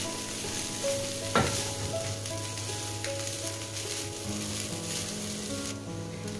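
Kerala-style chicken thoran with grated coconut and masala stirred in a hot pan, a steady close sizzle and frying crackle with occasional scraping strokes of the spoon, no voices.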